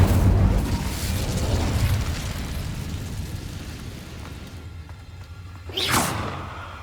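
The Incendio fire spell cast in Hogwarts Legacy gives a loud whooshing, rumbling burst that fades over several seconds, followed by a sharp swooshing flare near the end.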